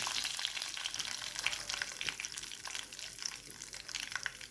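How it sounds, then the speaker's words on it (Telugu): Mustard and cumin seeds splutter in hot oil at the start of a Maharashtrian poha, making a dense, close crackle of rapid pops over a constant sizzle. "చూడండి, ఆవాలు చిట్పట్లాడుతున్నాయి."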